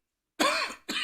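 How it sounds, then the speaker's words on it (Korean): A single harsh cough from a man preaching an Easter sermon, close and loud, followed a moment later by a brief second cough burst, with silence beforehand. "제가 기관지가 굉장히 약한데 기침이 나와가지고 걱정이 되네요"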